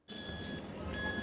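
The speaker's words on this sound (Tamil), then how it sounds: "இந்த காயில் பின்னில் வந்துட்டு பார்த்தீங்க அப்படின்னா நம்ம இப்படி வைக்கும்போது உங்களுக்கு கண்டினியூட்டியில் வந்துட்டு பார்த்தீங்கன்னா சவுண்ட் கேட்கும்" Multimeter in continuity mode touched to the coil pins of a relay gives a single sustained electronic beep, close and steady for about a second.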